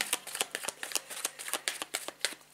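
Tarot cards being shuffled by hand, a quick irregular run of crisp riffling slaps and flutters close up, about a dozen bursts in quick succession with no talking.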